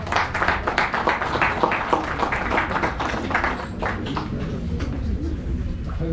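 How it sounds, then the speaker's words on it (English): Conference audience at a biotechnology society event in Nepal welcoming a panelist with applause, a loud, close burst of hand claps that holds steady for several seconds and then tapers off, with faint voices mixed in. "let's welcome Mr. Govindaraj Pokhrel with a big round of applause"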